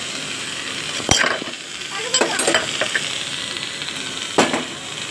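Bitter gourd fries in plenty of spiced oil with a steady close sizzle. A utensil stirs and scrapes the pan in a few sharp bursts.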